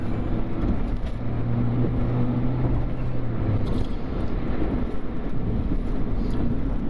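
Road traffic heard from inside a moving vehicle, a continuous low rumble of engines and tyres with a passing vehicle's hum swelling briefly, fairly quiet and steady with no speech.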